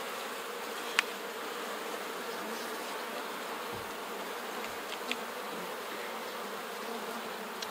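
Honey bees buzz around a hive in a soft, even drone, faint and continuous, with a couple of small clicks or taps cutting through.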